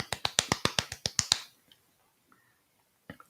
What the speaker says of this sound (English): That was my inclusive clap.